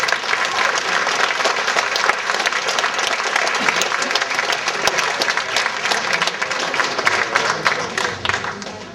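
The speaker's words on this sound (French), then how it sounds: "vous jetez ce nœud vers le public qui va vous applaudir et vous remercier" An audience applauds at a live show, a loud, dense and sustained burst of clapping from a full crowd, with scattered sharper claps standing out close by throughout.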